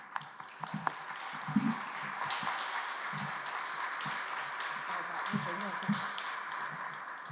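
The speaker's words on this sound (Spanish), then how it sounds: "Denle por favor un aplauso." A conference audience at a museum-learning talk breaks into steady applause, dense clapping sustained for several seconds in a reverberant hall, with occasional louder individual claps near the start.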